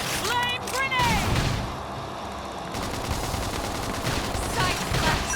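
A flame grenade attack from the video game Xenoblade Chronicles X bursts out as a rapid, crackling volley of explosive pops under a busy battle mix, with characters' voices calling out in the fight.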